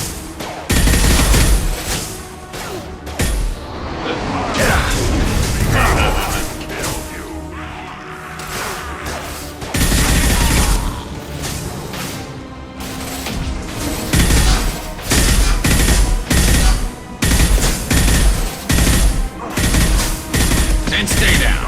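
Dense bursts of gunfire and heavy impacts ring out in a Mass Effect 2 firefight. Several volleys repeat over the stretch, with battle sounds and short voiced combat lines mixed in.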